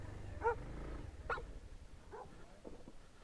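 A dog barks on a road in Nepal, a few separate barks spaced out over a few seconds, faint and somewhat distant over low rumbling background noise.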